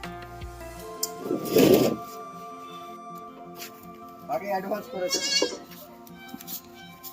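Goats of a crossbred herd at a goat farm bleat in loud, wavering cries, one strong call early and several more later, with people talking nearby.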